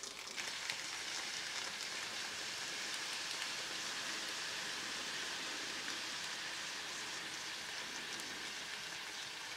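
A flameless ration heater reacting chemically to heat a military ration pouch propped against a rock outdoors, giving a steady, close fizzing hiss that holds at an even level throughout, with no talking.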